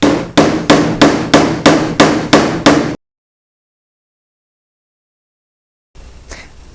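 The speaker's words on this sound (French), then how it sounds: "après on peut y aller avec des coups plus francs pour dire de remonter la tôle" Hammer blows on car body sheet metal during bodywork repair, eight sharp ringing strikes in an even rhythm, close and loud, followed by silence and faint handling noise.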